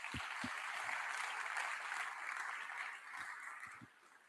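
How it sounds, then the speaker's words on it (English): Soft, diffuse applause from an evening audience at a university racing team's car launch presentation, a faint steady clatter of clapping with a few sharper claps standing out, thinning near the end. "It deserves a round of applause"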